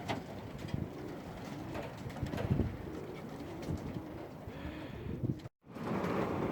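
Pigeons coo in a pigeon loft on an allotment on a cold winter morning, with soft, low, repeated coos under rustling and light wind noise, before a brief dropout and continued ambience.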